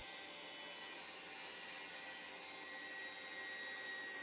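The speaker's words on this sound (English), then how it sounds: "my table saw to square up all four sides." A table saw squares up the sides of a wooden zipper cutting board, giving a steady, even whine with a continuous hiss of cutting wood that stays unbroken throughout and fairly quiet.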